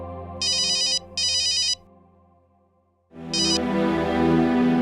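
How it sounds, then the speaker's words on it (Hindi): A mobile phone ringtone chimes in bright repeating bursts, pauses briefly, then starts again as a warm, louder musical tune swells in. "आयशा तुम्हारा फोन।"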